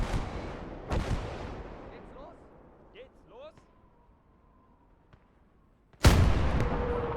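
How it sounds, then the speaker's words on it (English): Artillery fire in the WWII strategy game Gates of Hell: Ostfront, with a sharp blast near the start and a loud, close boom near the end, separated by fading rumble and faint whistling shell sounds. "He's actually using the artillery to try and take out my tank."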